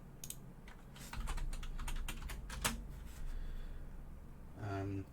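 Computer keyboard typing while entering a search term in Canva, a run of quick clattering keystrokes close to the mic, with a soft hum in the background.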